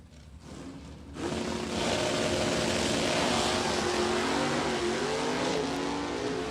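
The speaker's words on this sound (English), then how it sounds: "Johnny Dekema's Corvette will sit a bit before he dumps the clutch." A stock Corvette and Camaro launch off the line in a drag race, engines rising suddenly from a low idle into a loud, sustained roar that holds steady for several seconds.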